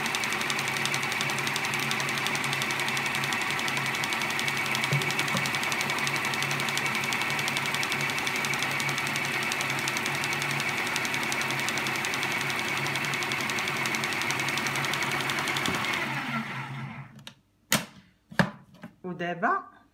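An electric stand mixer beats cake batter as milk and oil are added gradually, a loud continuous whirring drone that runs steadily before shutting off, followed by a few knocks and clatters.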